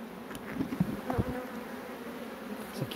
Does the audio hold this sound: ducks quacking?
no